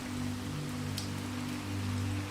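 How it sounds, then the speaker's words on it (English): Steady rain falls outside a stone manor on a stormy night, a constant even hiss of raindrops with a low humming undertone, unbroken and calm throughout. "The rain outside continues its steady cadence, and the winds howl around the stone walls."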